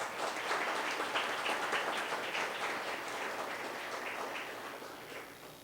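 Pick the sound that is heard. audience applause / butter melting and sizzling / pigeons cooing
audience applause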